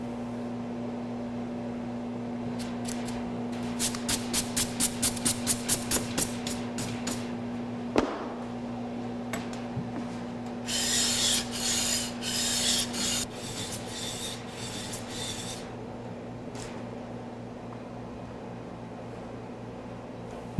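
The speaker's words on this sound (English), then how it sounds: "I start the back of the blade on the 80 grit, and I move through the finer papers." Steel back of a plane blade rubbed on 80 grit sandpaper, a rhythmic run of short rasping strokes followed by a denser scrubbing burst, close and fairly quiet over a steady background hum.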